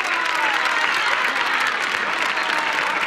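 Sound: TV studio audience applause and ovation

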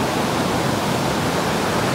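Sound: intense river rapids, Blakeney Rapids

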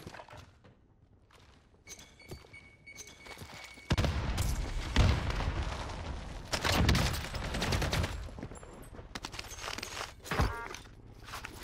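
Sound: gunshots in video game Call of Duty Cold War Warzone

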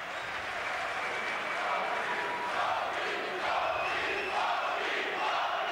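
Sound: crowd applause for boxer Graziano Rocchigiani

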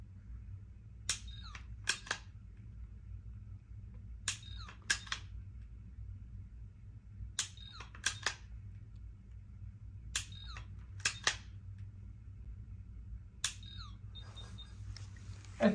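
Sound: firing a series with Kiwi laser weapon

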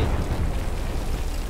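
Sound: gunshots with projectiles in video game Garry's Mod

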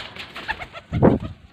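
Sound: pigeons cooing

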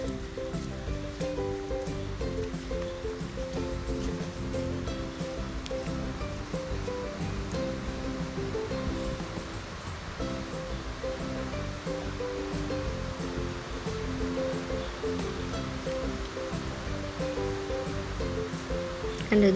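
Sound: stream water flowing fast after rain

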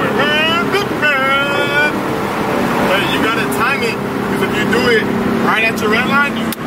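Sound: Ford Mustang GT engine revving to rev limiter

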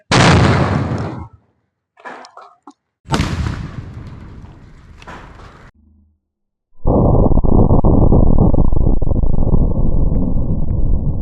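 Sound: firecracker bomb blowing up a pumpkin

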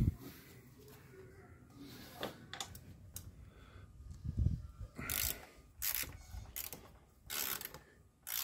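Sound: 6 mm wrench removing motorcycle crash bar screws

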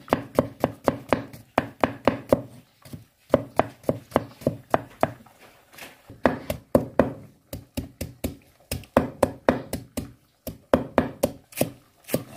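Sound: chopping food with a knife

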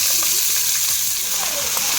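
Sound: greens frying in a pan

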